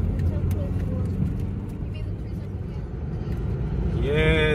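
A car drives along Aberdeenshire country roads toward a horse farm, its engine and road rumble steady inside the cabin while someone talks over it, with a rising engine note as it shifts near the end.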